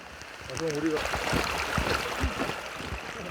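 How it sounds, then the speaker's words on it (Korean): Muddy mountain valley stream swollen by heavy rain, rushing through a survival training ground, makes a steady, close broadband roar that runs throughout, with a voice briefly audible early on. "졸졸 흐르던 골짜기의 물은 이미 흙탕물이 되어 쏟아져 내리는 생환훈련장."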